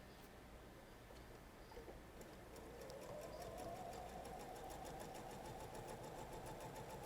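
Up close, a sewing machine stitches a quilt seam, its quiet steady rapid chatter speeding up after a few seconds and running on alone without talk.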